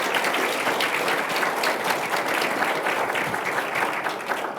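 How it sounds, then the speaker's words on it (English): A large live audience at a podcast taping during the ALP National Conference claps for the guests, a dense, even roar of applause that tapers slightly at the close. "Give them a round of applause."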